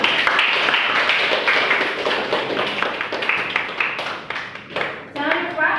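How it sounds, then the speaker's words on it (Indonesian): A class of students clapping hands together during a physics lesson, a dense patter of claps that runs the whole time and thins toward the end, with some voices mixed in. "Tepuk tangan untuk kita semua."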